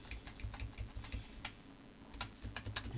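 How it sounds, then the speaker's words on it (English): Arrow keys tapped on a computer keyboard, close and clear, in quick irregular bursts of clicks while a button is nudged into place on screen. "use the arrow keys again to move the writing into the middle of the"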